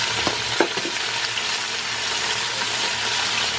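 Vegetables hit a hot pot slick with pork fat and sizzle loudly, a dense steady frying hiss with a few clattering stirs near the start, close and continuous.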